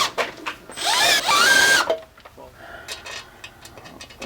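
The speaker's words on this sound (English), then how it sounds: "Try the hand drill out." A hand drill works metal on a printing press motor part in a garage, giving a short whirring, grinding run of about a second that ends in a squeal, followed by quieter clicks and scraping.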